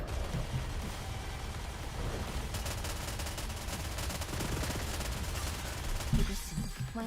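Missile barrage striking in the video game Nikke during a hard-mode Modernia boss fight: a dense, continuous rumble of rapid explosive impacts, with a louder burst near the end.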